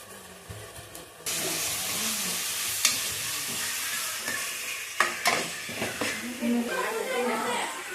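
Half-golden onion sizzles loudly in a pan after a ground spice mixture is added, and the frying jumps up suddenly early on. Repeated scraping stir strokes come through the steady hiss, and a voice is heard now and then.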